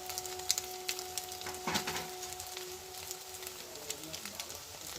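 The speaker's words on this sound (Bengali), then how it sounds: "কড়ার মধ্যে ভেঙে ডিমটা দিয়ে দিলাম।" A cracked egg sizzles in a hot wok as ground coriander, cumin and turmeric go in, a soft steady fry with faint tapping and quiet background sounds.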